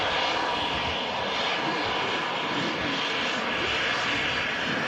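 An Embraer 190 jet airliner arriving from Lisbon at Manchester Airport produces a loud, continuous engine roar that holds steady throughout without any speech.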